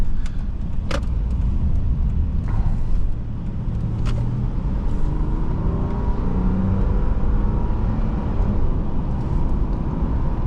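Steady engine and road noise from a 2006 Subaru B9 Tribeca while driving over bumps, a continuous low drone with a brief softer dip near the middle and faint rattles or clicks, no talking.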